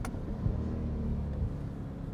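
A C8 Corvette sports car cruises along canyon roads in automatic mode, its engine giving a low, steady, muffled rumble heard from inside the cabin with no talk.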